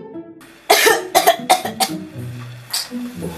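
A sharp burst of coughing, four or five quick hacks in a row up close, followed by a softer cough and faint voices.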